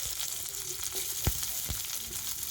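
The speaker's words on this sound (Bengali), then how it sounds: "তো জিরে আর রসুনটা তো একটু ভেজে নিয়ে আর এবার আমি এর মধ্যে দিয়ে দেব পেঁয়াজ" Chopped small onion sizzles in a pan with cumin seeds and garlic, a steady soft frying hiss with a few faint crackles and light stirring knocks.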